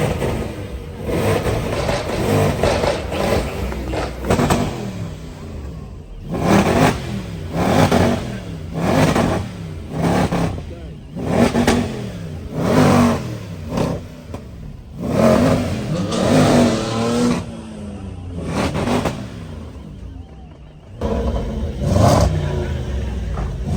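Cars rev their engines repeatedly at a big UK car meet, loud surging roars rising and falling in close succession, near and powerful, with occasional voices in the crowd.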